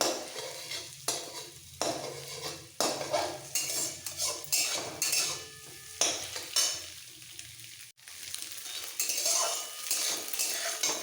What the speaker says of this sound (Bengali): আর ভেঙে নেব খুন্তি দিয়ে